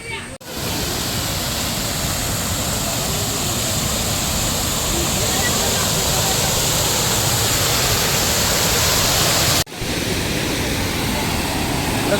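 Ghagra waterfall swollen by monsoon rain roars as a dense, constant rush of water, loud and close, filling the whole scene without pause.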